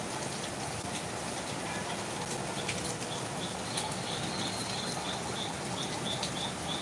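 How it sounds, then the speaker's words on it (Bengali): Steady rain falls beyond a balcony, a constant soft wash of drops with faint bird chirps scattered through it, no talking. "তো চমৎকার একটি বৃষ্টি হচ্ছে চমৎকার বৃষ্টি"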